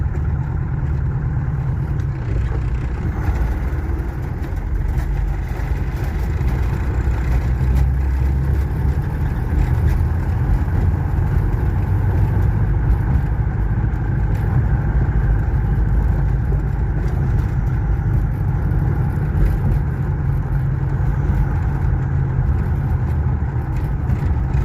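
A car engine running steadily near the Gamka river, a loud, constant low rumble from inside the vehicle that continues without a break, with no distinct gear change standing out and no talk.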